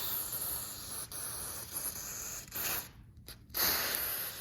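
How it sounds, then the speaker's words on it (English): An aerosol can sprays lubricant along a garage door line toward the motor, a loud steady hiss broken by a few short pauses and a final fresh burst. "Spraying all the way making sure that it's generously sprayed on."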